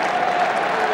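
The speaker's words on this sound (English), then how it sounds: "he's going to get a nice round of applause as he stopped" A crowd at a 1987 Syracuse versus Hobart lacrosse game applauds the goalie's saves, with dense, steady clapping filling the whole moment, loud and close.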